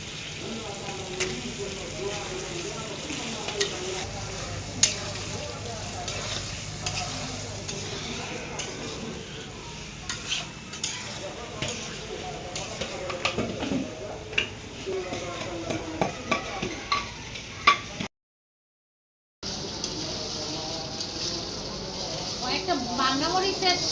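Meat sizzles and fries in a pot with chilli powder, cloves, cinnamon and cardamom for khichuri, with a continuous crackling hiss broken by frequent scraping stirs and occasional utensil clicks, recorded close up.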